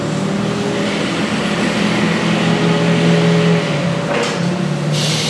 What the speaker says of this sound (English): Eidal Model 7241 Shredder with recirculating Daisywheel Trommel